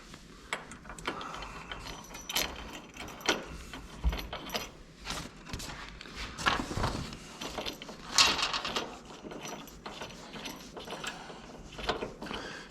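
Metal bolt, 1/2-inch, being threaded into the tow bar of a Factory Five MkIV Roadster; small scattered clicks, scrapes and ratcheting taps up close, irregular and fairly quiet, with no talking.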